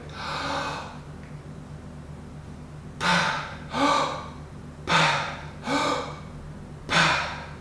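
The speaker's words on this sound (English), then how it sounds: "I am quickly inhale and then I passively exhale" A freediver's recovery breathing after a short breath hold, in five quick sharp inhales each followed by a short passive exhale, close and clear with steady room hiss between and no talk.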